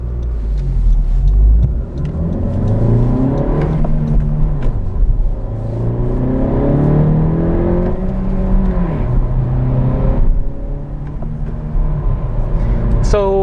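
A 2020 Honda Civic Sport Touring hatchback with a six-speed manual, stock, on a winding road, its engine revving up and sweeping through the gears with a lingering rev hang, steady loud cabin drone and rumble, with talk over it.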